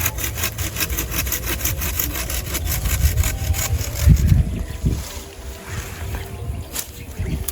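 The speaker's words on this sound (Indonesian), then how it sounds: "Ini motongnya cuma modal gergaji aja ya guys ya, simple, tinggal herek." A hand saw rasps back and forth through dragon fruit plant stems in quick, even strokes, close by, then slows to a few rough final pulls.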